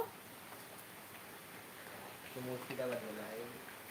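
Rain falling steadily beyond a covered veranda, a soft continuous hiss throughout, with a person speaking over it partway through.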